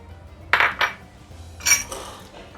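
Spoon clattering in a bowl while chaat masala, chili, coriander, garam masala and salt are mixed into a snack mixture: a few sharp metallic clinks and scrapes in short bursts, close and clear, with quiet gaps between.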